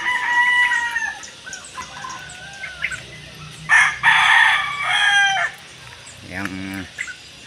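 Rooster crowing on a rural Filipino property during preparations for a wedding, several full crows and clucks at moderate distance, with faint background activity and no voices.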